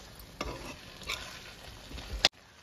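Green hariyali chicken, about half a kilo, is stirred in a pan: a few scraping spoon strokes over a low, soft sizzle, ending in one sharp clack before the sound cuts out.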